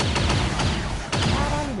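Repeated weapon fire from the turn-based tactics game XCOM 2: War of the Chosen, several sharp shots and impacts in quick bursts, loud and close over game ambience.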